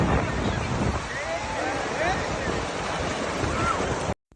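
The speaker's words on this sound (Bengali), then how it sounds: "কিন্তু এখন দেখো বিশাল সাইজের ঢেউ।" Big sea waves at Digha beach crash and wash in a steady loud roar, with wind buffeting the microphone throughout before an abrupt cut at the end.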